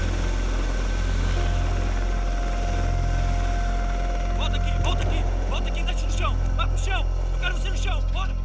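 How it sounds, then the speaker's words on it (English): A federal police helicopter drones steadily overhead in South America, a constant low engine rumble and rotor hum, while someone talks over it in the second half. "the unit uses federal police helicopters."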